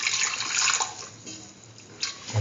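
Water poured into a lentil stew with red chillies in a pressure cooker, a steady close splashing and trickling that thins out midway and swells again briefly at the end.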